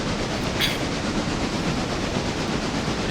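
A freight train running smoothly in the Railroader video game, a steady, dense rolling rumble with faint rail clatter throughout, heard alone.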